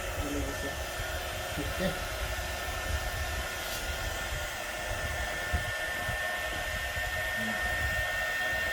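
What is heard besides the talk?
dental air blower on wax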